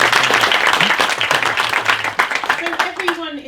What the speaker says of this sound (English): a big round of applause also for Isabel